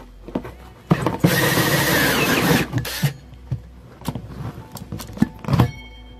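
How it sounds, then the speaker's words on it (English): A drill with a hole saw grinds loudly through material for a couple of seconds, cutting a net cup hole for a hydroponics container, followed by scattered knocks and handling clatter nearby. "take your drill with the hole saw, find the centerpiece,"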